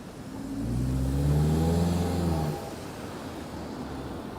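Porsche car accelerating on a New York City street, its engine note rising in pitch and swelling as it passes nearby, then fading out into general street hum.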